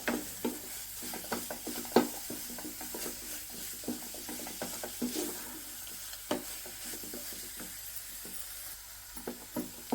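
A coconut laddu mixture with sugar is stirred in a pan, giving scraping, clicking spoon strokes and a soft sizzle at a steady working rhythm, close up, with no talking.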